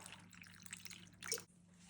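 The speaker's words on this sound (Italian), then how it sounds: "Vado ad ammollare l'uvetta con dell'acqua" Water poured over raisins to soak them for Romagna Easter bread, a short splashing trickle with small drips and a brief louder burst near the end, close and clear with no talking.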